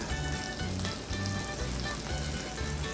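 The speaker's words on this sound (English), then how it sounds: "I'm putting in about 3 slices of bacon" About three bacon slices fry in a pan with a constant close crackling sizzle, overlaid by a rhythmic low thumping pattern repeating through the short stretch, and no one speaking.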